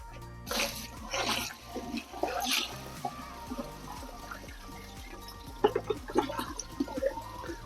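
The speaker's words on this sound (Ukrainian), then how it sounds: "Наливаємо повне відро 20 літрів." Water pours from a height into a 20-litre bucket, a steady splashing gush that rises and churns as the bucket fills, with a few louder splashes near the end.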